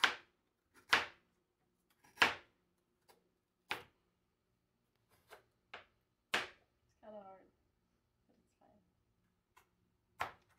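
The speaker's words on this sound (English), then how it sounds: "just chop those up so we get some nice edible sized parsnips" Knife chopping parsnips on a cutting board, with sharp, separate thuds spaced about a second apart, close and clear over near silence, with a brief murmur of a voice in the middle.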